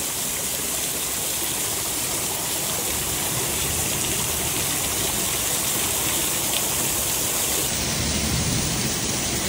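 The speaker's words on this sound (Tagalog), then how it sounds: "Pag itong ulan na to, ganito kalakas ang ulan." Heavy rain pours in a dense, steady roar, a loud unbroken hiss of downpour that stays constant and close from start to finish.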